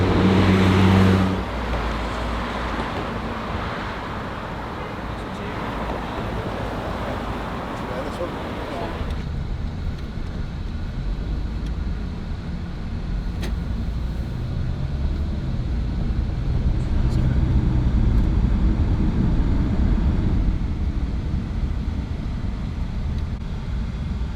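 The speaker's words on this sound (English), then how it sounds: "we're jumping on a bus and getting out into the city" A city bus drives through Jordan's streets, its engine rumble and road noise steady and close throughout, with a brief louder burst at the start and the sound of traffic around it.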